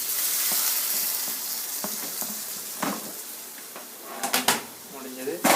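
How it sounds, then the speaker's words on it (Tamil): Tomatoes tipped into a frying pan of sizzling onions, a steady hiss of frying with sharp clatters and bursts of crackle as they land, close by. "இப்போ அந்த தக்காளியை கொட்டிடலாம்."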